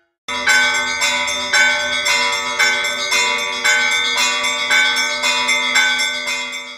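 Church bells of a Ukrainian Orthodox church ring in a steady, repeating peal. Loud, resonant strikes land roughly every half second over a sustained ringing hum, with no voices.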